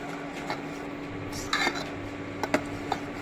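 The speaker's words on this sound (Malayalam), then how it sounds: "നന്നായിട്ടൊന്ന് ഇളക്കി വെച്ചിരിക്കുക." A spoon stirs a pot of jackfruit seed and raw mango curry, making scattered light clinks and scrapes against the metal over a quiet, steady background hum.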